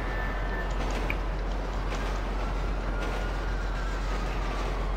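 A train rolls along in GTA 5 Online, a dense, steady rumbling rush throughout with no speech.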